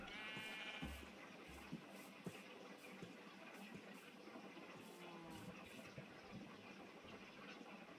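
Sheep bleat several times in Minecraft, over a steady, noisy background, with a few short tapping sounds scattered throughout.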